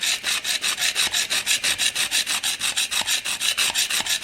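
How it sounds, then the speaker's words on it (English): An Annihilator single bevel broadhead stroked back and forth on a sharpening stone, a rapid, even rhythm of gritty scraping strokes, close and steady, with no talking. "So I can move the head over the stone, or I can move the stone over the head."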